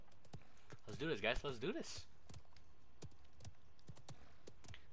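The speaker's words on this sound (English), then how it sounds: "Oh, that's a nice horse" Horse hooves clip-clop at a steady pace in the Paladins video game, light rhythmic knocks running under a man's short spoken line and brief game effects.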